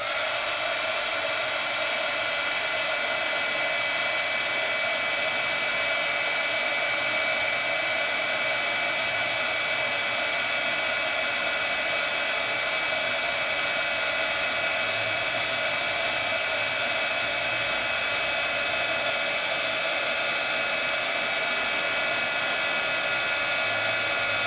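A heat tool blows a steady, loud hiss and whine while it melts embossing powder, an unbroken airy drone with a high-pitched motor tone that continues alone throughout.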